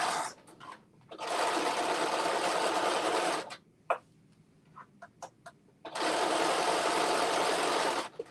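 Sewing machine stitching a rolled hem on an off-the-shoulder dress using a roll hem foot, a loud steady buzzing run, a pause with a few short bursts, then another long continuous run.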